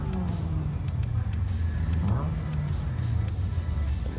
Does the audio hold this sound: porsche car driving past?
yes